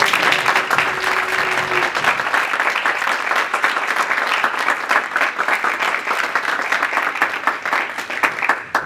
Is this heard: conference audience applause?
yes